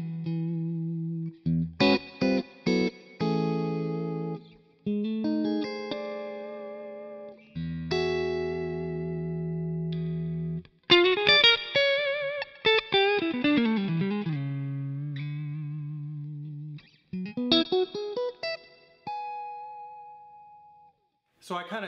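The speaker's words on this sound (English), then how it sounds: "And where I had it set up was kind of a mild reverb." Guitar played through a J. Rockett Boing reverb pedal on a mild reverb setting, plucked notes and chords in short phrases with gentle ringing tails, alone with no talk.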